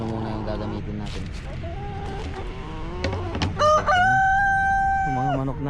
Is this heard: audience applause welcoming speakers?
no